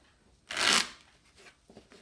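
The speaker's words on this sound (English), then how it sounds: "it shuffles kind of nicely" A Tarot of Gnomes card deck riffle-shuffled in one quick burst, a crisp papery flutter lasting about a quarter second, followed by a few faint soft taps of the cards settling.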